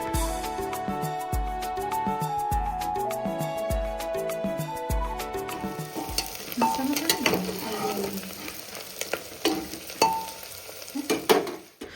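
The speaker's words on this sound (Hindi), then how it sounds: "तो दोस्तों अब प्याज को अच्छे से भून लेते हैं" Onions frying in a pan for pav bhaji, a close sizzle with stirring scrapes and clinks, entering after a stretch of background music and growing busier toward the end.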